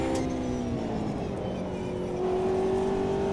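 Race cars in a racing video game, a BMW and a Porsche GT4 among them, drone steadily with layered engine tones, one rising pitch climbing near the end, continuous and moderately loud with no talk.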